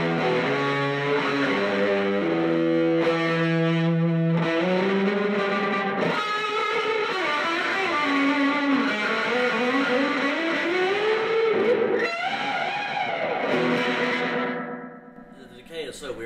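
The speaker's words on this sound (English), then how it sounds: "this is a lot of echo and a lot of output from this thing" A guitar effects unit in a recording studio throws out a strange, heavily repeating echo with sustained and bending tones and a long, odd decay that fades near the end, loud and alone without talk.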